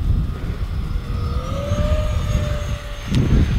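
An F-16 Falcon RC electric ducted-fan fighter jet makes a low pass, a steady whining fan tone rising in pitch over a loud rumbling wind-buffeted background, with a brief sharp burst near the end.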